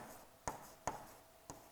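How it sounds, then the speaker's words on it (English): Marker strokes on a board during an English lesson, three short squeaky scrapes spaced apart over a faint room background, fairly close. "Let's write it here."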